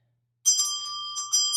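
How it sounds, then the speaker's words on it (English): A small handheld shame bell rings close and loud, a bright metallic ding repeated several times, its tone sustaining between strikes with no talk. "is my shame bell."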